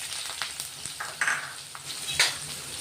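Finely chopped onion frying in oil with mustard seeds and cumin for a drumstick vegetable curry, a steady close sizzle with a few crackling pops and light scraping of a spoon in the pan, no voices.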